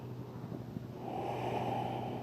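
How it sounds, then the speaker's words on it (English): Slow, deep breathing during a back mobility and flexibility exercise: a soft nasal inhale followed by a longer, airy exhale, close and quiet with no talking. "So let's take two more breaths here."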